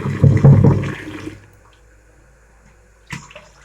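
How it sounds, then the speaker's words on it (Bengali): Hot water drains off washed chow mein noodles, a loud splashing gush close up for about a second and a half, fading to quiet with a brief splash near the end. "এবার জলটা আমরা ঝরিয়ে নেব ভালো করে।"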